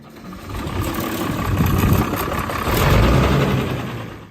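Farmall 706 tractor, built 1963 to 1967, with its engine running in a loud, close, continuous rumble that swells twice as the revs build. No talk.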